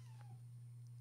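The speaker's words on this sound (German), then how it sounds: "hier mauzt mir gleich gerade eine kleine Katze ins Mikro" A small cat gives a faint meow near a microphone, soft and brief over a steady electrical hum.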